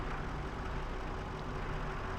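A skid steer engine runs at a steady, loud idle, with a dense low rumble that holds evenly throughout and no distinct start-up burst.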